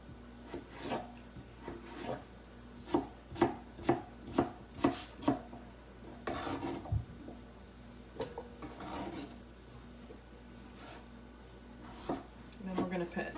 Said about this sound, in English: Cut up your potatoes. I just do bite sizes.